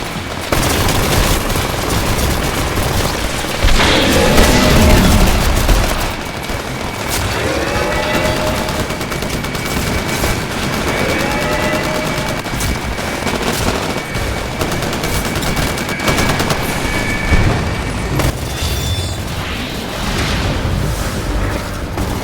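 Rapid bursts of automatic gunfire crack and rattle in the Tinfall video game, dense and loud over a steady booming backdrop of battle noise, with no talking.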